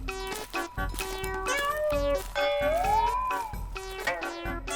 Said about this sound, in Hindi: लगता है बिल्ली थी।